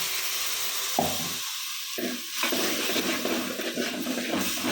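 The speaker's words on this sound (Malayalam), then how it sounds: "ഇനി ഇതിലോട്ട് നമുക്ക് പാൽ ഒഴിച്ച് കൊടുക്കാം കേട്ടോ" Coconut milk poured into a hot pan of heated coriander powder for a Kerala fish curry, a loud rushing hiss and sizzle that cuts in and out in bursts, with no talking.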